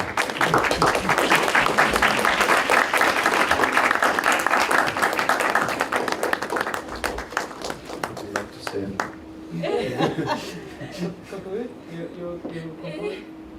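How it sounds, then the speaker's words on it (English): A large audience claps loudly and steadily at a Kyoto University symposium closing. The applause thins out and fades over several seconds, leaving scattered claps and a speaker's voice near the end. "Please, more and more applause."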